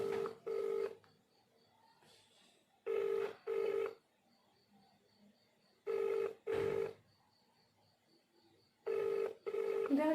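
Outgoing phone call heard on loudspeaker, with pairs of ringback tones repeating about every three seconds. Each pair is a short double burst, fairly faint, with quiet pauses between and a faint background tone.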